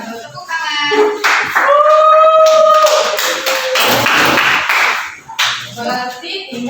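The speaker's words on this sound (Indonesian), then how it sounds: "Tepuk tangan." A group claps briskly together in a classroom, loud and close, with a few voices calling out over the applause.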